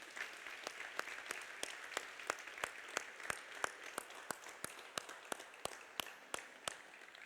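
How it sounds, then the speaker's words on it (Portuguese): Sparse applause from a church congregation during a Sunday service, with a few sharp, distinct claps standing out in a steady rhythm over softer background clapping, fairly quiet overall. "Dê uma salva de palmas para Jesus."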